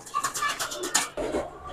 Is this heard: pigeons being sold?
yes